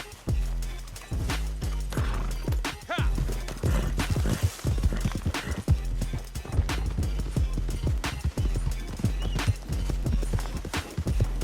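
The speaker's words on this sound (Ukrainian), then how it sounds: "Тепер сідай на коня і їдь у напрямку Роудс." Horse hooves gallop at a steady rapid rhythm in the video game Red Dead Online, loud and close, with an occasional whinny over the thudding beats and no talk.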